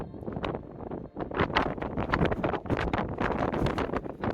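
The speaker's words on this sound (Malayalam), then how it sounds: "നല്ല കാറ്റാണ് ഇപ്പോൾ" Gusty wind batters the microphone in loud, uneven bursts and rumbles, one brief lull before the buffeting picks up again.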